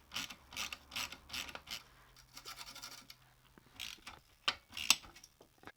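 A 10mm ratchet loosens the exhaust clamp bolts on a Lexmoto LXR380, with rapid clicking pawl bursts close by, then scraping and metallic rattles of the tool and parts, fairly quiet overall.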